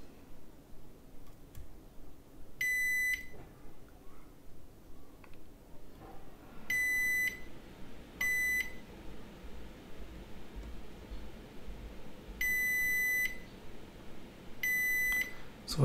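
A multimeter in continuity mode beeps in five separate steady tones, each about half a second long, as its probes test the filters on an Xbox One S board. Rustling and faint handling noises fill the gaps between beeps.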